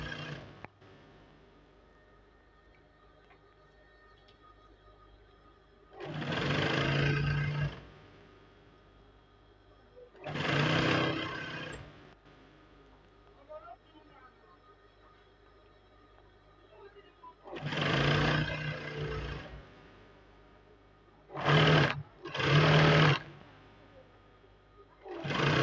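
A sewing machine stitches a trouser pocket seam in several separate bursts of a few seconds each, with quiet gaps between them and two short runs close together near the end.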